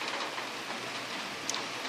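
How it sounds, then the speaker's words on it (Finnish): Soft, steady patter of rain falling, a faint continuous hiss of drops with occasional slightly sharper ticks, no voices. "Että vesi vain ropisee taivaalta."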